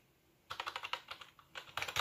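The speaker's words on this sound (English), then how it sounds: "if I hook up this basic keyboard instead of my mechanical gaming keyboard" Typing on a basic computer keyboard, with a quiet pause, then a burst of steady clicking keystrokes, another short gap, and a final quick flurry of close, crisp key presses with no talking.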